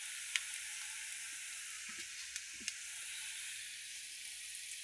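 Oil sizzles in a pan as turmeric goes in, a steady soft hiss of frying with a few light clicks and taps of a spoon, fairly quiet and close.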